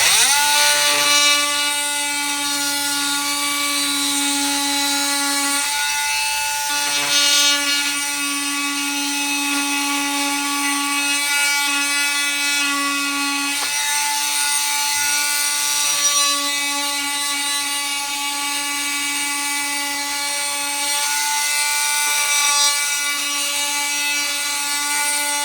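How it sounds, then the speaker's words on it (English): An oscillating multi-tool cuts through drywall for a patch repair, giving a loud, continuous high-pitched buzzing whine with strong steady harmonics that shifts slightly as the blade bites, running nearly the whole time with brief dips. "So I got my, what I call an oscillator tool, but it's a multi-tool. And it gets noisy now."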